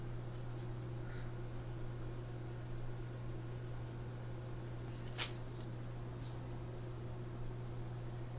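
Pencil line being erased on a face drawing on paper, a soft continuous rubbing hiss with a faint steady hum underneath, close and quiet, with no talking.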